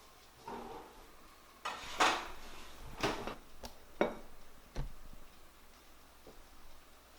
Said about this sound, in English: the first pan is fixing to go in the oven